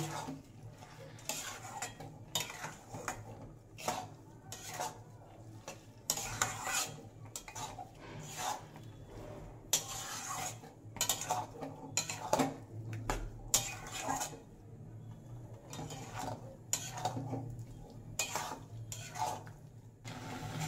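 A spoon stirs drained grated papaya in a pan for a sweet, producing close, rhythmic metallic clinks and scrapes against the pan that repeat steadily throughout.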